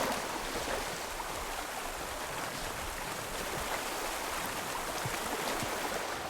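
Waterfall in the video game Horizon Forbidden West pours as a steady, broad rushing hiss, continuous and fairly loud, with no speech.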